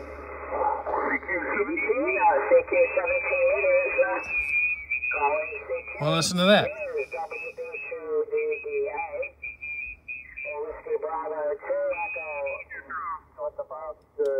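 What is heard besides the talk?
amateur radio QSO received on the 17-meter band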